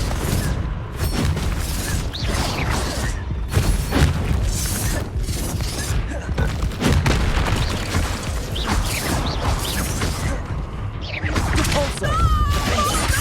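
Confringo and Bombarda spell blasts from a Harry Potter video game crash and boom in dense, loud bursts, with mechanical clatter and creaks between them and occasional voices shouting underneath.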